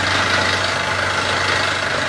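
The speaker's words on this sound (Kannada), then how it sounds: "ಗಾಡಿ ಶುರು ಮಾಡ್ತಾ ಇದ್ದಾರೆ" A borewell drilling vehicle's heavy engine drones loudly and steadily, a dense, constant roar with a low rumble and no pauses or speech.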